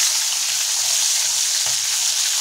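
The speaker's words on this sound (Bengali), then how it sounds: "এখন আমরা মাছগুলোকে ভালোভাবে ভাজা করে নেব" Fish pieces frying in hot oil in a wok, a loud, dense, continuous hiss of sizzling oil with faint low thumps underneath, close up and without a break.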